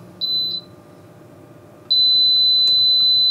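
Electronic beeping from a kitchen appliance: a short pair of high beeps, then after a pause a long sustained tone, fairly close and clear.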